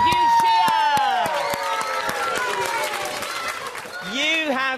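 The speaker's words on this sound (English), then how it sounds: "Give yourself a huge cheer!" A studio crowd of children cheers and claps together, a bright burst of shrieks and applause with an adult voice talking over it and the cheering swelling again at the end.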